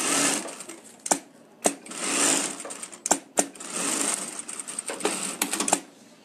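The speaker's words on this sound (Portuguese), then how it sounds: "vou colocar a tira de acabamento daqui, ó, e já bato a costurinha aqui" Sewing machine stitching a binding strip onto fabric, heard close up in bursts of rapid whirring separated by short pauses and sharp clicks, with no talking.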